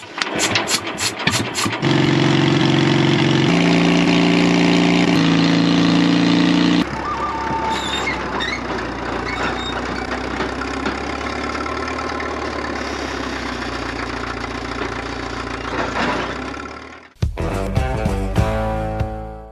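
A Caterpillar D4 bulldozer engine runs loudly and steadily while being loaded onto a trailer, with a rough low idle shifting in pitch partway through and a brief burst of other noise at the end.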